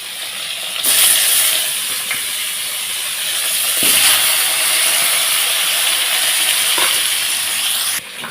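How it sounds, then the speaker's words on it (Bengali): Fish fry in oil in a pan with a constant loud hissing sizzle that flares at the start and holds steady, with a few small pops and kitchen clinks underneath. "মাছগুলোকে তুলে নিয়েছি এগুলো ওরকম করে সব ভেজে নেব তো একটু তেল দিয়ে দিচ্ছি"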